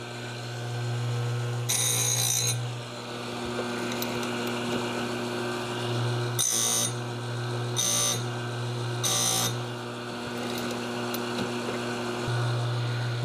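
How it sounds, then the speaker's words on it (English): A grinder sharpens chainsaw chain teeth over a steady motor hum, with four short, bright bursts of grinding, each about half a second to a second long, spaced apart as separate teeth are touched. "And then I should be ready to grind."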